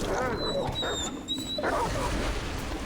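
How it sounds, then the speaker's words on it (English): Dogs bark in the Remnant from the Ashes video game, distant and muffled beneath a steady wash of game ambience, with a few faint high whistling tones drifting over the top. "I keep hearing dogs."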